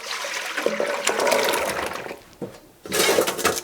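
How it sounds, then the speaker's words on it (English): Homemade chicken stock for chicken noodle soup poured from a pot through a colander into a large bowl, a steady gushing splash of liquid that briefly dips and then surges again near the end. "we're just going to put our colander right over our bowl and dump our beautiful looking stock"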